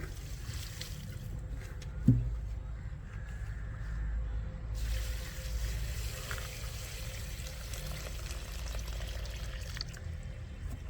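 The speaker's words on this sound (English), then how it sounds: "pour in enough rainwater to completely submerge the weeds" Rainwater pouring steadily into a bucket of weeds, a continuous splashing rush with a brief knock near the start, close and moderately loud.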